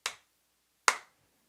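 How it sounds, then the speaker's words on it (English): Two sharp hand claps in a studio, about 0.85 seconds apart, each a crisp, close transient with a short decay. Silence falls between them. "So in my studio, I see this. Clap, clap, clap, clap."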